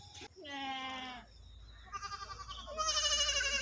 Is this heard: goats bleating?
yes